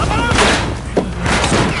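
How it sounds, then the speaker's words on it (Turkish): Gunfire is aimed at an airplane in the video game Uncharted 4, with bursts of shots and thuds over engine noise while someone talks excitedly over the action. "Adamlar uçağıma ateş açtı hey."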